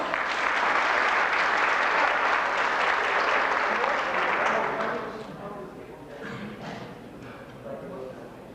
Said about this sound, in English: Round of applause for Tony Lawson.